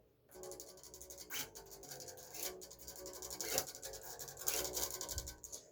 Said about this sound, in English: you can hear the kick scraping against the bass as I play that